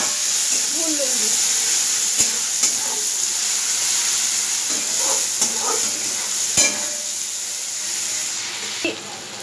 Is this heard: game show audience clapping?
no